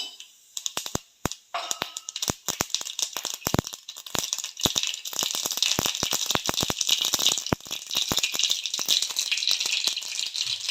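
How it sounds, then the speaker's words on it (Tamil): Mustard seeds crackle and pop in hot oil in a home kitchen, beginning as scattered sharp bursts and building into dense continuous spluttering, close and fairly loud. "எண்ணெய் காஞ்சிருச்சு. கடுகு போட்டுக்கலாம். கடுகு பொரியட்டும்."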